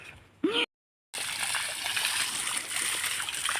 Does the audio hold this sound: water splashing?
yes